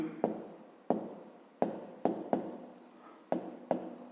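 A pen writes numbers in a school maths notebook in a quiet room, close and soft, giving six or seven short scratchy strokes at an uneven rhythm.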